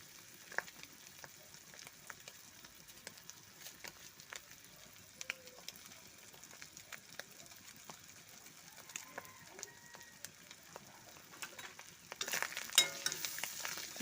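Masala pasta is stirred in a frying pan, giving a faint, quiet sizzle with soft scraping and clinks scattered throughout, growing a little louder and busier near the end.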